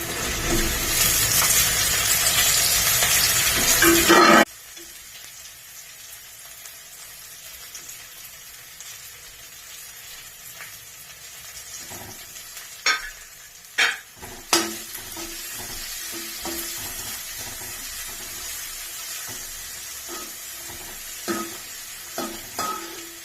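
Baby corn fries in a pan and gets stirred, starting with a loud burst of sizzle that drops to a quieter hiss, broken by several sharp utensil scrapes and knocks against the pan.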